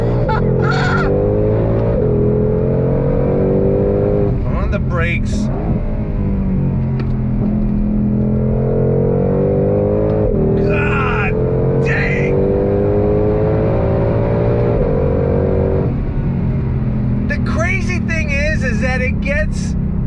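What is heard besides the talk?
Ford Shelby GT500 V8 engine revving and accelerating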